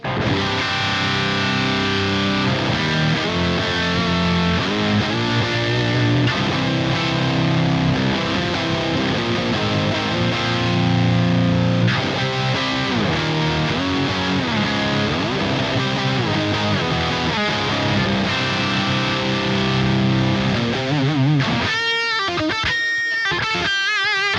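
Distorted electric guitar is played through Marshall JCM and JVM amps with reverb and compression, continuous sustained chords and riffs at steady volume, ending in choppy staccato hits.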